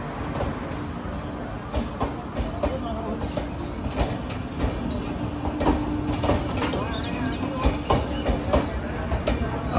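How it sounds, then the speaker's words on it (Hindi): Train at Dhuri Junction station, running about ten minutes late: a steady rumbling roll with repeated rhythmic clacks and knocks of wheels over rail joints, loud and close throughout, with faint voices in the background. "ट्रेन अज तकरीबन 10 मिनट लेट आ"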